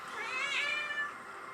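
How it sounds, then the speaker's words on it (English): A cat cries and meows steadily, a drawn-out wavering wail heard at moderate distance over background room noise during a convention panel reaction. "you just have to make do with the cat crying, because she will not stop"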